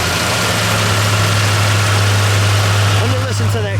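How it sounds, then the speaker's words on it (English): 1970 Ford Torino 429 Cobra Jet Ram Air V8 idling slightly high, a loud, steady low rumble close by, with a voice speaking briefly near the end. "Got a little high idle right now."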